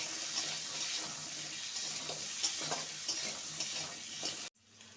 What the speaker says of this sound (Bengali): আর দিয়ে দেবো সামান্য হলুদ গুঁড়ো আলুটাকে সুন্দর করে ভেজে নেব